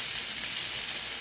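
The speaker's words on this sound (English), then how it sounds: "I threw the peppers in the cast iron skillet with a little bit of oil, and they're just sauteing away" Peppers sauteing in a little oil in a cast iron skillet give off a continuous, close, even sizzle that holds steady without pause.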